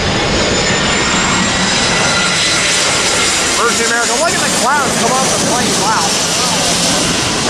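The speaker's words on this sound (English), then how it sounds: "Virgin America, look at the clouds come off the plane." A Virgin America jet airliner roars loudly on approach to LAX, a steady broad engine rush with a rising whine, filling the whole moment with no talk over it.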